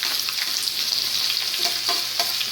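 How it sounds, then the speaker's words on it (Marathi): Chopped carrot, cucumber and ivy gourd fry in a hot pan with curry leaves, giving a steady close sizzle broken by light scrapes and clatters of stirring; no one speaks. "गाजर काकडी आणि तोंडली जे कापलेलं होतं त्याला आपण फ्राय करून घेतो आता ह्याच्यामध्ये."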